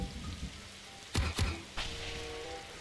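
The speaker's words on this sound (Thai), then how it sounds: "โอ้ฝนตกด้วย กลัวฟ้าผ่าว่ะ" Rain falling in a Roblox survival game set in a forest, a soft steady patter throughout with two sharp, loud bursts near the middle and another shortly after, no voices.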